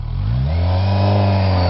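Kawasaki Versys 1000 SE motorcycle engine revving hard and rising steadily through the gears, a loud continuous close-up drone with climbing pitch and no voices.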